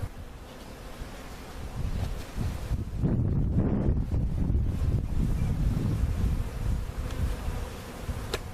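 Honey bees buzz around an opened hive during an old house cutout on a windy Oklahoma spring day, a steady hum layered under heavy microphone wind rumble that swells midway.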